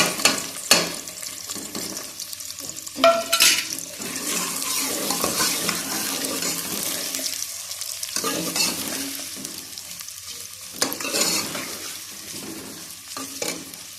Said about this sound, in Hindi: घी गर्म हो गया, मैं इसमें प्याज डाल दूँगी।